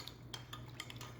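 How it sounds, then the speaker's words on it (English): Cornstarch slurry being stirred into sauce in a wok, a few quiet, irregular metallic clinks and scrapes of a utensil against the pan, faint and close, with no talking. "stir that into the sauce"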